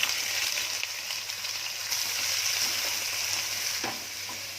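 Half a kilo of onions fry in a small amount of hot oil, producing a steady, even sizzle with faint stirring, heard close and alone without talk.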